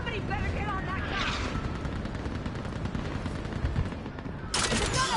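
Mounted gun firing in the Mass Effect 3 video game, dense continuous bursts of heavy gunfire rolling under a sci-fi battle din, with sharp bright flares of noise near the start and end and voices in the mix.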